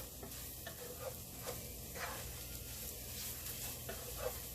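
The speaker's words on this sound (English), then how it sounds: "So just keep sauteing it around in the pan." Sausage sizzles steadily in a frying pan as it is sauteed and stirred, with a soft continuous hiss broken by faint scraping from the stirring.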